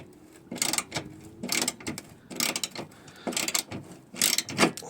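A ratchet with a 10 mm socket backs out the last inside bolt on a Vauxhall Vivaro front bumper, making loud, close bursts of rapid clicking, about five clusters separated by short pauses.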